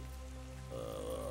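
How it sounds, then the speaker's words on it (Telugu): Steady rain falls at night in a Telugu film scene, a dense even hiss that swells slightly partway through and carries no talk over it. "వర్షం"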